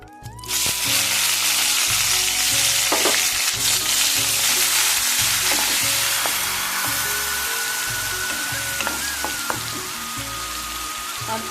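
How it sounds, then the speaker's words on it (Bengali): Ground onion paste sizzles loudly in hot oil with bay leaf, cumin and dried chilli for aloo do pyaza, a steady frying hiss broken by scraping stirs of a spatula, with no talk. "এইবার আমি এর মধ্যে বেটে রাখা পেঁয়াজটা দিয়ে দেবো।"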